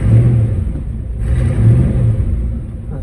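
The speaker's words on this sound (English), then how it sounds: "And let's give it a couple revs." A cold 1964 Pontiac GTO 389 Tri-Power V8 engine revs up with a deep, loud rumble, rising and easing off in a couple of short surges.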